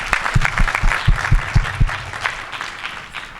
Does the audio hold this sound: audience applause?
yes